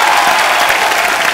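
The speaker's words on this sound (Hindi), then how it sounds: "एक बार जोरदार तालियां हो जाए इरफान भाई और जिनी बाजी के लिए" Loud, dense studio audience applause on a comedy talk show, a brief unbroken roar of clapping.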